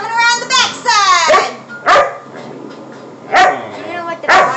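Dog barks from the Nintendo Land video game, several sharp yelps in bursts with whimpering tones, mixed with excited voices of family members playing.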